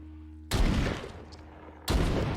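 A double-barrel shotgun blasts twice in the VR zombie game The Walking Dead: Saints and Sinners, loud close booms about a second and a half apart, each trailing off into a rumbling decay.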